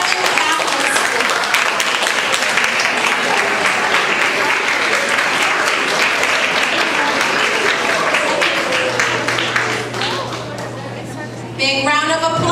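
A large audience at a middle school awards ceremony breaks into dense, sustained applause that fills the room, dropping briefly near the end before a short burst of other noise.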